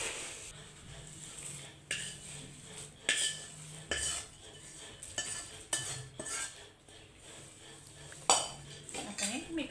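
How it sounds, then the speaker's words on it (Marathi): A spoon scrapes and clinks against a metal pot while a spiced mixture is stirred into puffed rice (murmura) for Kolhapuri bhadang, with irregular close stirring strokes and soft rustling throughout. "आता हे मिश्रण तयार आहे, आता आपण या मुरमुऱ्यामध्ये घालून घ्यायचं आहे।"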